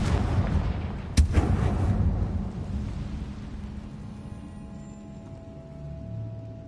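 A blasting-spell explosion in a Harry Potter game cracks sharply and loud, then a deep rumbling boom rolls on and slowly decays into quieter game ambience, with no talk.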